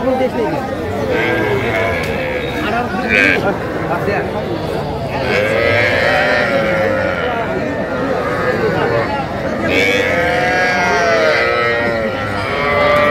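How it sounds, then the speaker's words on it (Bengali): Cattle and young calves low and moo repeatedly at a busy livestock market in Rangpur, several drawn-out calls rising over steady crowd chatter and nearby voices. "বেশ কিছু গরু দেখছেন।"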